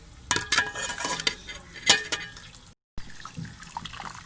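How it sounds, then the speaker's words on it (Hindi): Chicken yakhni stock strained into a separate pot in a home kitchen, with clattering of metal utensils and wet splashing and pouring in uneven bursts, a brief silent gap, then lighter scraping and clinks. "यखनी को छान लेंगे इस तरह अलग से बर्तन में डाल लेंगे और यखनी को छान लेंगे"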